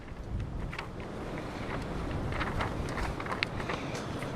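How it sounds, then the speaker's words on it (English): Outdoor wind buffets the microphone in a steady low rumbling roar with gusty swells, faint hiss and an occasional soft knock, no voices. "I think the wind is blowing some of the stuff off my palette here."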